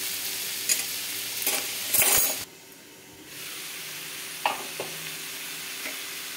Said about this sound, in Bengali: এবার আমি গ্যাসটা কমিয়ে দিয়ে আমি এটাকে ভাজবো।